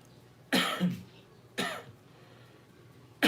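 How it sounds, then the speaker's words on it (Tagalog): Two sharp coughs close to the microphone about a second apart, followed by the start of a third at the end. "may ubo na tayo"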